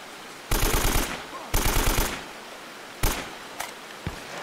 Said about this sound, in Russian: Кстати, с каждым разом у меня навык стрельбы маленечко улучшается.